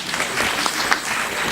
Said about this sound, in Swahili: Simunipigie makofi.